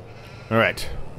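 A single short sheep bleat from Farming Simulator 22, clear and fairly close, over a faint game background.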